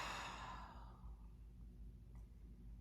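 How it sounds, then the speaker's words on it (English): A slow, deep breath out during a guided meditation, a soft airy exhale that fades over about a second, leaving near-silence with a low background hum. "And together, breathing out."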